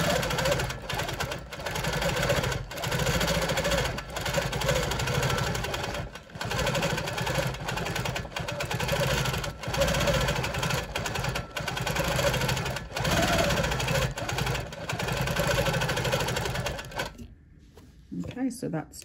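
Sewing machine running steadily while free-motion quilting a feather medallion on a preprinted whole-cloth quilt, a continuous dense mechanical whir with brief pauses, stopping near the end.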